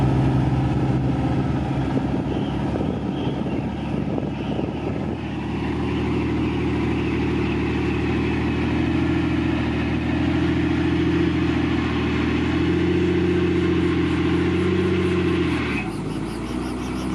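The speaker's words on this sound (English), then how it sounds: "What's that sound? It's a Robinson R44 Raven 2 helicopter." A Robinson R44 Raven II helicopter engine runs steadily and loud up close, a continuous droning hum with a brief dip and change in tone near the end.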